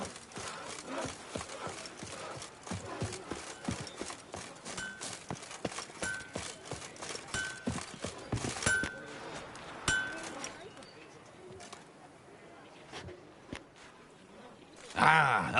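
Horse hooves clip-clop in a steady rhythm in The Witcher 3 video game, joined by clinking metal and a brief whinny near the end.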